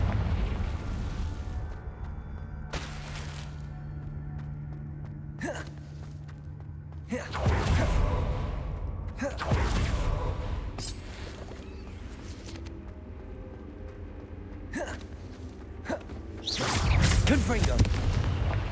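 Confringo fire blast spells in Hogwarts Legacy hit with repeated booming, explosive bursts at irregular intervals, several loud deep impacts separated by quieter rumbling combat noise.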